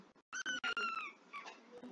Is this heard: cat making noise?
yes